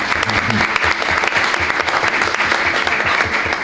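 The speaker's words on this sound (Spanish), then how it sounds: "le vamos a pedir un aplauso para Fernando." Audience applause at a business conference panel on company planning and organisation, a dense, steady roar of clapping filling the room for several seconds without a break.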